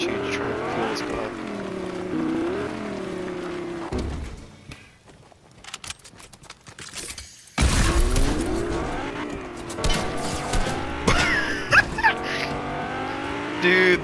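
Video game cars race and ram each other, with engines roaring and revving, tires squealing and skidding, loud and close, broken by a quieter gap midway before the engine noise surges back.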